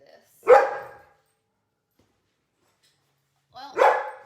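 Dogs barking indoors in two separate short bursts, one near the start and one near the end, with silence between them.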